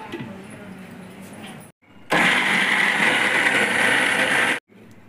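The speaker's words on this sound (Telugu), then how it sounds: "ఫస్ట్ మిక్సీ జార్లో పప్పు వేసేసుకోవాలి. గ్రైండ్ చేసుకున్న తర్వాత బెల్లం వేసుకోవాలి." A mixer grinder jar crushes dal in a loud, steady high-pitched whir lasting a couple of seconds, with a quieter stretch of grinding before it and a brief pause between runs.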